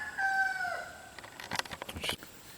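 Rooster crowing once in a new chicken run, a long drawn call near and fairly loud, followed by a quick burst of clucking from the hens.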